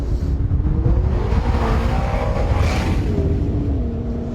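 A McLaren 650S Spider sports car accelerates hard, its engine note rising and shifting in loud, close sweeps over a deep rumble, with no talk.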